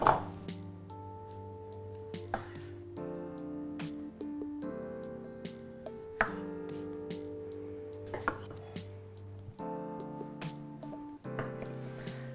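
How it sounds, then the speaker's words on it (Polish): A knife chops tomatoes on a board in irregular, sharp taps over a steady humming background, fairly quiet and close. "ale trzeba już kroić pomidory"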